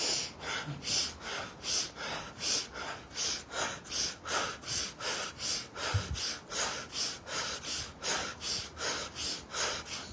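Deep priming breaths in a guided breathing exercise, a steady rhythm of forceful nasal inhales and exhales, roughly two per second, close and even throughout.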